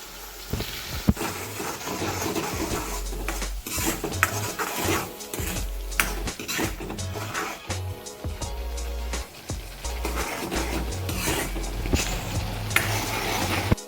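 Tomatoes being stirred and sautéed in a pan for a traditional thali, with steady clinks and scrapes of a utensil against cookware over a soft continuous sizzle, close and fairly loud, with no talking.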